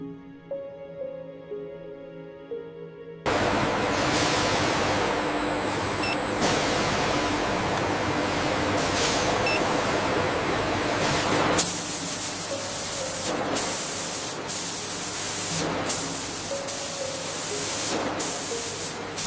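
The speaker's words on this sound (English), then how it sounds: "Hot air tunnels remove all remaining moisture from the rubber." Hot air drying tunnels in a condom factory blowing with a loud, steady hiss that starts abruptly after a quieter opening, with occasional brief shifts in the rushing air.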